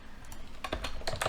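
Computer keyboard typing a screen name while building a Power Apps employee recognition app: a quiet run of quick key clicks, sparse at first and then denser, with no voices.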